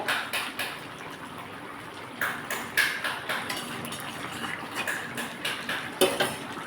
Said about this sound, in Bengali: একটু হালকা করে মিশিয়ে দিচ্ছি কারণ মাছটা ভেঙে যাচ্ছে